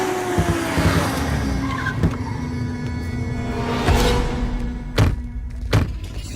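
A car slows and pulls to a halt, with a loud engine rumble, a faint tire squeal and a few sharp thunks near the end, heard close up and without any talk.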